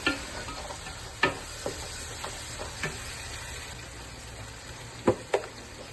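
A spoon stirs mutton biryani masala in a pan over a high flame, scraping now and then with a few sharp clinks against a soft, steady sizzle.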